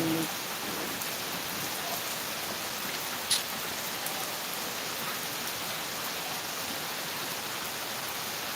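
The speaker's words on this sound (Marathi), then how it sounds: "ह्या वर्षीचा पावसाळ्यामधला पहिला पाऊस एकदम जोरदार पाऊस पडत आहे" Steady, dense rain of the season's first monsoon downpour pours continuously, a heavy broadband hiss with no pauses and no voices.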